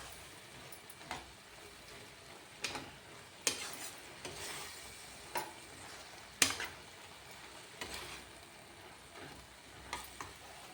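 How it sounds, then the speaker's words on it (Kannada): Black-eyed peas cook with a masala mixture in a pan for a no-onion, no-garlic curry, giving a steady low sizzle broken by repeated scraping stirs of a spoon against the pan, close by and without voices. "ಹಸಿ ವಾಸನೆ ಹೋಗೋ ತನಕ ಸ್ವಲ್ಪ ಮಸಾಲೆ ಜೊತೆ ಬೇಯಬೇಕು."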